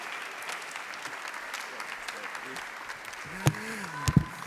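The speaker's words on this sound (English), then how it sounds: "give him a round of applause, a standing ovation" Audience at Azusa Pacific University rising for a standing ovation, a soft, distant patter of clapping under crowd murmur, with a few louder close claps and a voice near the end.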